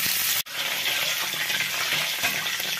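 Oil heating in a pot for vegetable khichuri, a loud, dense, continuous sizzle after a short break at the start.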